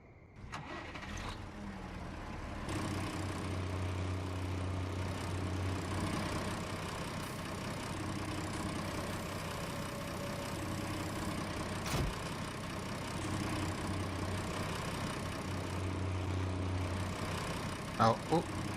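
A tractor engine idles steadily in Farming Simulator 19, a low continuous drone running for the whole stretch, with someone talking over it.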